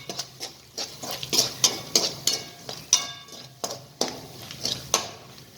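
Spice powders (garam masala, red chilli powder and coriander-cumin powder) are stirred in a pan for aloo matar sandwich filling, making a run of soft, repeated scraping taps close by, with no talk.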